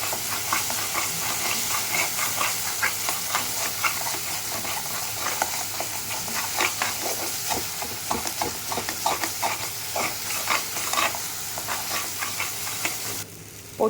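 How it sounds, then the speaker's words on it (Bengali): Spices with garam masala sauté in a pan for a Bengali veg kofta curry, with steady close sizzling and repeated scraping stirs throughout, and no talking. "গরম মশলা দিয়ে আমি এবার একটু হালকা কষিয়ে নেব"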